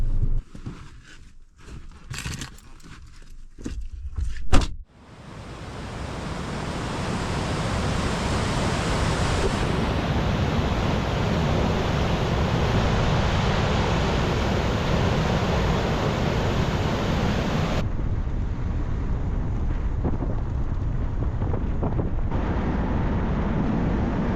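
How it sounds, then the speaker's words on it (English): Wind and lapping waves at a lakeside beach by a boathouse on Lake Wissota in northern Wisconsin, a steady loud broadband rush after a brief burst of handling rumble at the start. "We're at the beach and or the boathouse at Lake Wissota."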